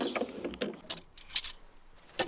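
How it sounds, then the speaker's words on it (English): Metal bar clamps being loosened and lifted off a freshly glued wooden workbench top in a workshop, a few scattered clinks and rattles with quiet gaps between them, fairly faint. "let's get all these clamps taken off"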